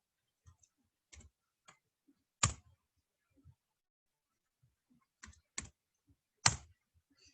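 Sparse keystrokes on a computer keyboard click in a quiet room, small clusters of taps separated by pauses, with a couple of louder, sharper key presses standing out.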